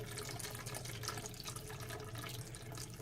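Water poured from close by onto a closed Powerade bottle, a steady continuous splashing and trickling stream that runs unbroken throughout, soft and alone with no voices.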